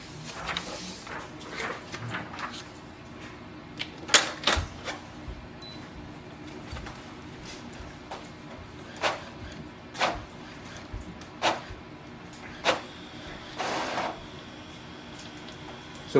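An Epson XP 8700 inkjet printer making a copy, heard at close range as a faint mechanical hum punctuated by irregular clicks, clunks and short whirring bursts of the print carriage and paper feed, with no talking.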